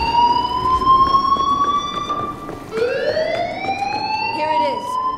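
Wailing alarm siren in the video game Dead Island 2, rising and falling in long sweeping tones that restart partway through, loud and continuous over busy game noise.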